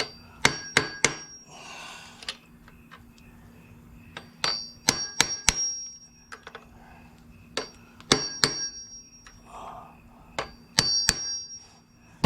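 Metal-on-metal hammer strikes driving an inner bushing into a Honda Helix scooter engine, close and loud, landing in quick bursts of two to four sharp taps separated by short pauses, with faint scraping between the blows.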